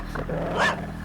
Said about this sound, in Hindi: वहाँ पर जो कुत्ते हैं वो बहुत भौंक रहे हैं